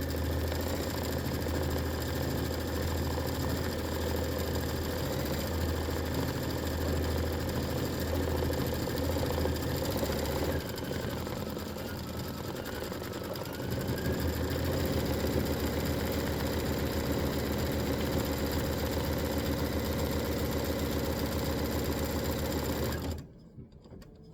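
An embroidery machine stitching an outline at reduced speed gives a loud, continuous, even mechanical hum and rapid needle chatter, with a brief change in tone midway, then stops abruptly at the end.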